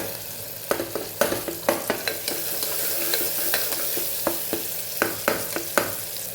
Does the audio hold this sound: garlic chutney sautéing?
yes